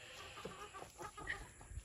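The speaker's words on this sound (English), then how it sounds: "You know, Abby, one chicken did sniff that." Backyard chickens cluck softly in short scattered calls, faint and fairly close over a quiet background hum.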